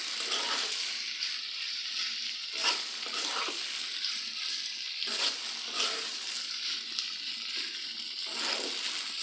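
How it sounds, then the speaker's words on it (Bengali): Noodles fry in oil in a pan with a bright, constant crackling sizzle, and bursts of stirring recur every couple of seconds close by. "এখন নুডলসগুলো ঢেলে ভালো করে এখন রান্না করে নেব"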